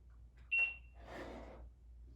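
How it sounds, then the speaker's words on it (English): Short high electronic beep from a timer set during a floor yoga session, a single clear tone followed by a soft rustle and room noise, with no talking. "And let me set the timer."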